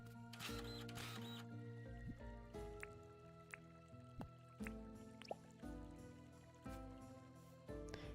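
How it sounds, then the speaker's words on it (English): Water drips in the game Dinkum, a series of soft, clear plinks and small splashes scattered irregularly over a quiet watery background, with no talking. "The sounds of water."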